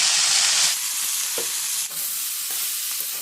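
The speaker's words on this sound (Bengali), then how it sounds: "এবার দিয়ে দিচ্ছি কেটে রাখা কলাই শাক।" Chopped kalai greens hit a hot pan and fry with a steady close sizzle, a louder burst at first easing to a constant hiss, with faint scrapes of stirring and no voices.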